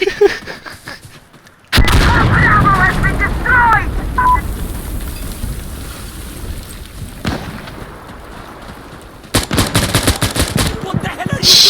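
Rapid gunfire bursts in the shooter game Insurgency Sandstorm, loud and close, with one sustained volley followed by quieter stretches and a fresh burst of shots; voices are faintly mixed in.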